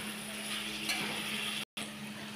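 Poppy seed paste with potato and ridge gourd fries in a pan, giving a soft, continuous sizzle with stirring, close and quiet. The sound cuts out for a brief moment before resuming, and no one talks.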